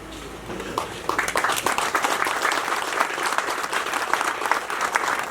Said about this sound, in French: levons-nous pour l'applaudir